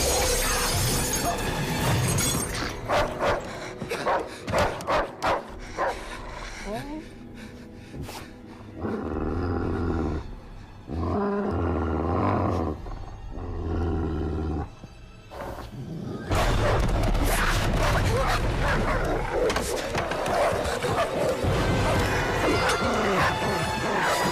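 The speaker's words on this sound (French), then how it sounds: "On doit attendre que ces chiens se dispersent." Dogs bark and growl in a French horror film set in a forest, mixed with loud crashing and shattering noises and a dense, continuous soundtrack that rarely lets up.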